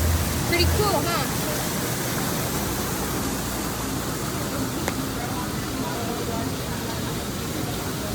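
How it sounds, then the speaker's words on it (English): Indoor waterfall at the Rainforest Cafe at Animal Kingdom, a steady broadband rush of falling water filling the room, with people talking over it near the start. "We got it right by the waterfall."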